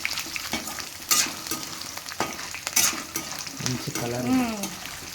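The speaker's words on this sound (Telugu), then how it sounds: "ధనియాలు జీలకర్ర ఎల్లిగడ్డ పచ్చిమిరపకాయలు పల్లీలు నూనెలో ఫ్రై చేసుకోవాలి" Cumin, coriander seeds, garlic, green chillies and peanuts fry in oil for a peanut-tomato chutney: a close crackling sizzle with repeated stirring scrapes, and a brief voice near the end.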